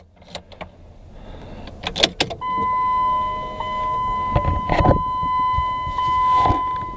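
A 2007 Jeep Liberty Limited 3.7L gives a few clicks and a soft beep, then its power window motors hum steadily as the windows lower, close-up and clear.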